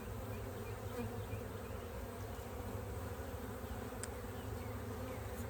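Honey bees swarm around an opened hive, making a steady, dense buzzing hum that stays even and close throughout, with no talking.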